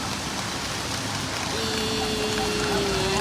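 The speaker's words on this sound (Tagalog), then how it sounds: "Ulan na ngayon." Steady heavy rain from Typhoon Uwan pours down without a break, a dense close hiss on surfaces, with a faint steady engine-like tone joining partway through; no one speaks.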